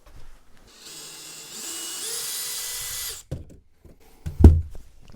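A power drill whines steadily for a couple of seconds while driving screws out of an RV dinette, followed by a few short knocks and a sharp clunk as parts shift.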